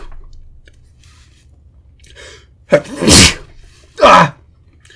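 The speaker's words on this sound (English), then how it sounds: "that was such a good sneeze" A person sneezes loudly and close: a short gasping intake, then a sharp burst, followed moments later by a second forceful sneeze, with quiet background in between.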